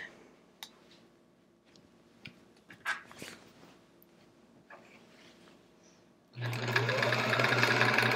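Quiet clicks and small handling noises, then a sewing machine starts up and stitches a quilt seam, a loud steady mechanical whir close by running to the end.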